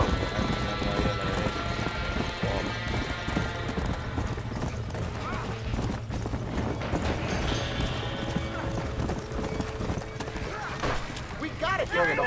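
Horses in the Red Dead Redemption video game, with hooves clopping and occasional whinnies during a burning-barn scene, mixed with game music, effects and character dialogue.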